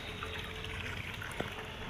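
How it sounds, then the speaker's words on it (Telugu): Water flows in a small garden waterfall as a faint, continuous trickling splash, alone and even throughout the short clip. "ఇక్కడ వాటర్ ఫాల్ అని చూడండి"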